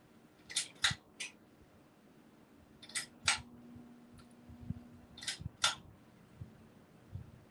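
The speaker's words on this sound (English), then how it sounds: "I'm going to cut this cellophane off." Scissors snip through cellophane wrapping in short, crisp clicks that come roughly in pairs, three bursts in all, quiet and close against a faint steady hum.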